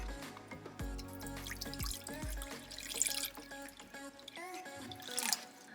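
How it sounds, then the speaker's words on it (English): Water poured to fill a dish inside a new enclosure for a Calabar burrowing python, steady trickling and dripping with splashy bursts, close and fairly quiet, with no talking. "So let's go ahead and fill up the water and then we'll get him in here."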